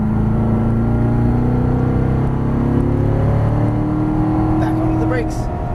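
A Corvette Stingray engine drones loudly from inside the car on a race track, holding a steady rising tone throughout while a driving instructor talks over it.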